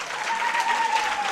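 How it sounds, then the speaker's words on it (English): An audience at an International Mother Language Day celebration claps for a speaker, a brief, even burst of crowd applause with a faint tonal hum underneath. "Round of applause."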